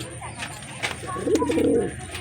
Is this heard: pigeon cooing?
yes